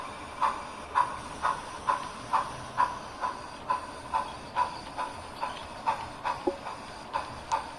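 Athearn FEF-3 HO-scale model steam locomotive pulling an excursion train, giving a steady, even rhythm of soft chuffs, about two per second, over a faint background hiss.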